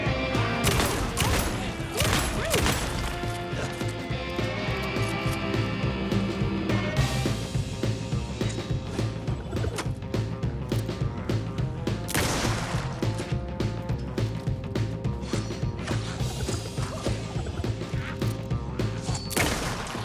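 Rifle gunfire in a game, a dense run of sharp reports and crashing impacts layered over a steady music-like bed, loud throughout with no clear pauses.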